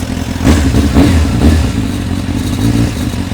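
A 1991 Honda CBR 600F motorcycle engine, still cold, is revved close by, its loud rumble swelling in three quick throttle blips with some mechanical clatter, then settling to a rough idle, with no talk.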